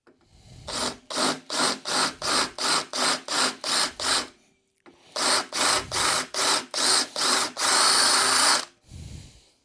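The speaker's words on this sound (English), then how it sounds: "I'm going to drill the bar a little bit and put a little countersink in there for the screw to go into" Power drill boring into a steel motorcycle handlebar on a Velocette build, running in two series of short, regular bursts with brief pauses, a longer continuous run near the end, close and loud.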